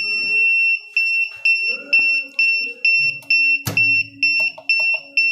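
An auto packing machine's fault alarm buzzer beeps repeatedly in a steady, rapid on-off rhythm, loud and piercing, while a clunk and faint machine noise sound beneath it.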